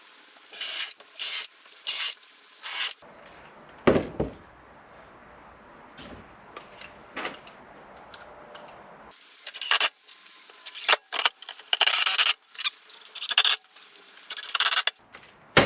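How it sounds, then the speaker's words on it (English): A power drill bores pilot holes into a wooden workbench board in several short, loud whirring bursts at the start and again at the end, separated by a quieter stretch of faint handling noise. "I'm going to drill some pilot holes and then put these wood screws in."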